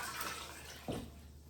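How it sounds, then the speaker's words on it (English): Water pours from a container into an Instant Pot for vegan split pea soup, a soft steady splashing that swells briefly with a heavier gush near the end. "So I'm putting in 12 cups of water."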